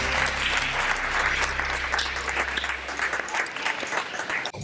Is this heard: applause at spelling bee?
yes